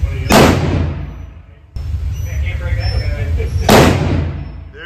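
Two loud, sharp reports from a Ruger .44 Magnum revolver, spaced a few seconds apart, each with a booming decaying tail outdoors, and a low background murmur between them.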